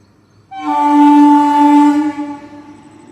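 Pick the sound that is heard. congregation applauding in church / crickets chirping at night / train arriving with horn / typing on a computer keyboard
train arriving with horn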